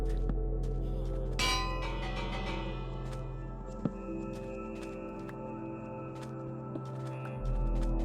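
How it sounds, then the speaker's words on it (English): A village bell in Minecraft is rung once, sounding a bright metallic clang that rings out and slowly fades over a steady low game-world hum, with a few faint clicks after. "We're using the bells to panic the villagers"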